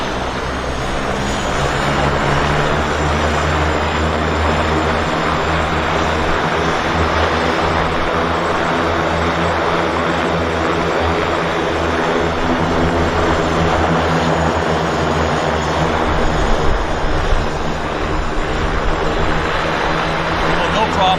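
Floatplane propeller aircraft at Vancouver Harbour airport, its loud, steady engine drone filling the whole stretch with a constant harmonic hum, with a voice faintly mixed in.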